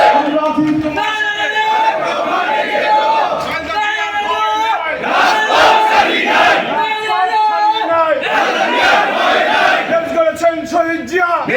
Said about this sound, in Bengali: 2 হাত তুলে স্লোগান দেন, তারেক রহমান এগিয়ে চলো, আমরা আছি তোমার সাথে